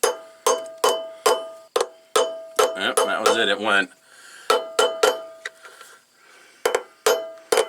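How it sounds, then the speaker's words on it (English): A big hammer lands light, evenly spaced taps on a Harbor Freight blind hole bearing puller, each a sharp metallic clink with a short ringing tail, a steady series interrupted by a brief burst of talk before the tapping resumes. "I prefer to do light taps with the big hammer instead of big hits with the small hammer."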